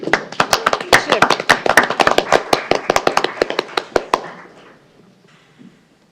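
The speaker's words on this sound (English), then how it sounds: "Give Chip a round of applause." Audience at a City of Oldsmar council meeting applauding a proclamation, a burst of hand claps that swells quickly, holds for about four seconds, then thins out and stops.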